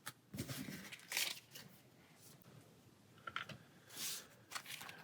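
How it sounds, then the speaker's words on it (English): Cards from the Pathfinder Adventure Card Game are shuffled back into a deck, giving a few quiet, brief riffling and rustling bursts separated by near silence. "so we'll shuffle these back in our deck."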